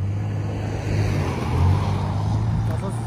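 A car engine runs with a steady low drone that swells slightly as it revs, close by in a wooded spot, while people talk over it.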